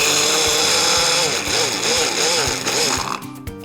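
A food processor whirs as it chops marinade ingredients with salt and pepper, a loud, steady motor buzz with pulsing changes that stops near the end, with a voice heard over it.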